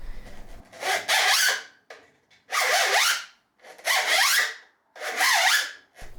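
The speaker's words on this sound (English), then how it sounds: "This horrible zipping sound." A 3D-printed linear rail cover slides back and forth, making a harsh, raspy zipping sound as it catches on the print layers. Four distinct strokes come close and loud, with brief quiet gaps between them.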